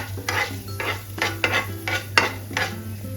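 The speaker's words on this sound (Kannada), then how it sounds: "ಅರ್ಧ ಚಮಚ ಮೆಂತ್ಯ, ಅದನ್ನು ಹುರ್ಕೊಳ್ಳಿ. ಫಸ್ಟ್ ಸ್ಲೋ ಸಿಮ್ ಇಟ್ಕೊಳ್ಳಿ" Half a spoon of fenugreek seeds is roasted in a pan over a slow flame, a spoon scraping and stirring in steady repeated strokes against the metal with a faint sizzle beneath and a low steady hum.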